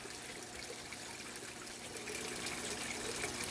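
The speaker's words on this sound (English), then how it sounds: "So we've now got even more waterfall than we had before." Water pouring down a multi-tier backyard waterfall, a steady broadband rush and splash that holds constant and swells slightly louder toward the end, with no voices.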